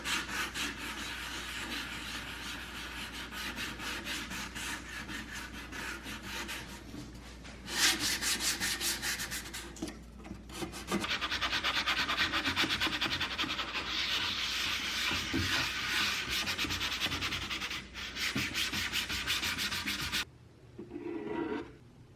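Close, continuous sanding on a primed Mandalorian helmet, heard as rhythmic rasping strokes. The rubbing shifts in pace and pressure through several long passes and stops abruptly near the end.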